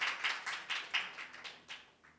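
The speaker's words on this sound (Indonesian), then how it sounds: "Beri tepuk tangan yuk buat Tuhan kita Yesus Kristus." Rhythmic clapping from a congregation at a women's church gathering, a series of evenly spaced claps in unison, fairly close and alone without talk.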